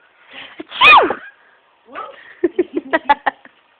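A single sharp sneeze bursts out near the start, loud and close, followed after a pause by a young child's quick run of silly babbling sounds.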